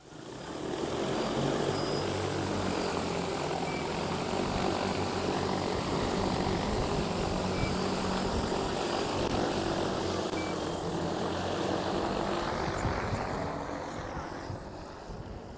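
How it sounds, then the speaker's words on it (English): An XAG P100 Pro agricultural spray drone lifts off and flies, its rotors making a loud, continuous whirring drone that swells at the start, holds steady, and eases slightly at the end. "Aircraft preparing to take off. Stand back at a safe distance."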